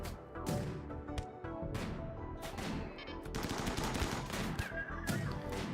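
Rapid turret gunfire from the colony defense game Rimworld, dense bursts of machine-gun shots overlapping in near-continuous volleys, loud and alone with no talk.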